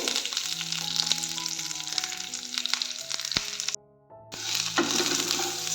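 Oil and cumin seeds sizzle steadily in a kadai, a dense close frying hiss broken by a few light clinks and a brief pause before the crackle resumes.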